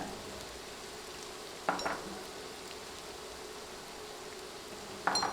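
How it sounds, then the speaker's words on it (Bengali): Ground turmeric, chilli, coriander and cumin frying in oil for a radish and fish curry, a steady soft sizzle with two brief spatula scrapes against the pan. "গুঁড়া মশলাগুলো নেড়ে তেলে ভেজে নিচ্ছি"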